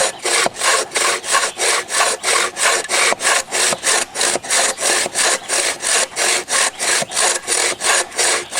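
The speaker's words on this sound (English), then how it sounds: "the key is not to really exert a lot of force when you're sawing" A hand saw cuts through hard wood in steady, rhythmic back-and-forth strokes, about two and a half per second, loud and close with no talking.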